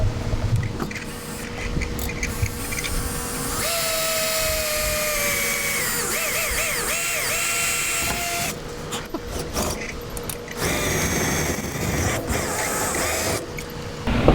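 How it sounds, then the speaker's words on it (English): A power drill bores a small pilot hole for mounting a Turbowing fairing on a Peterbilt 389 truck, its motor whining in sustained bursts with pitch changes under load, close and fairly loud. "Alright, I'm gonna drill the next one with a little pilot hole."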